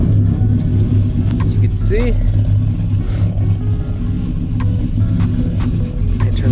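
A pickup truck engine idles steadily after a U-joint repair, a continuous low rumble running throughout under close talking, with a brief rev and some clatter partway through.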